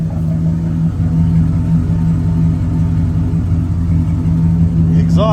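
A 1966 Chevrolet Chevelle Malibu convertible idling with its engine and exhaust running, a steady loud low rumble with a throbbing burble, close and constant throughout.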